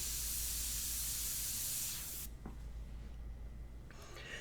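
An Extreme Patriot Arrow airbrush sprays India ink onto paper in one steady, close hiss that cuts off after about two seconds, followed by faint handling noise.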